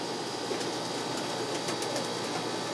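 Pigeons coo softly and repeatedly under a steady wash of broadband noise, with no voices present.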